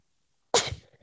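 A single sudden sneeze, close and fairly loud, bursting out after silence and trailing off quickly during an online class.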